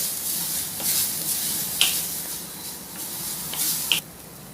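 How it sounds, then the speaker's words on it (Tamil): Grated coconut sautéing in half a teaspoon of ghee over a low flame gives a soft, steady sizzle and hiss, with a couple of brief sharper scrapes of stirring near the end. "அந்த 1 பங்கு தேங்காயை போடுறோம். சிம்மிலே வச்சு ஒரு 30 செகண்ட் வதக்குறோம்."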